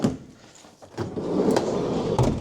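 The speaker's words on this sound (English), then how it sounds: "door closed, door open and staying in place." Sliding side door of a Ford Transit Custom van being closed and opened after a latch fix, sharp thuds and a rolling slide with clunks near the start, middle and end, close by with no talk.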